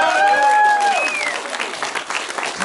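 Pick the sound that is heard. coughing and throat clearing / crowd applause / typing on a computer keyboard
crowd applause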